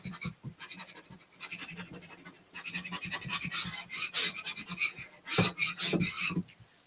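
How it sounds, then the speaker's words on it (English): Close, dry scratching of tape being burnished onto lighter vellum paper, with uneven strokes that grow louder toward the end. No one speaks. "Get this one burnished. It's a lighter vellum."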